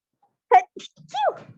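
A single loud, sharp sneeze bursts out close to the microphone during an online class, followed by a brief murmur of voices.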